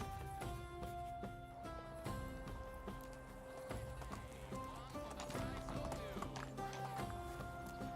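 Steady clip-clop of horse hooves galloping in the Medieval Dynasty video game, with a horse whinny and background game music beneath, continuous and fairly close.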